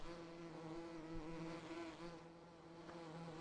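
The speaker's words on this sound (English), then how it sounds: "A lot of bees coming out." Swarming bees pour out of a beehive in the farming game Farming Simulator 2015, a continuous droning buzz with steady tonal hum, close and unbroken, with no talking.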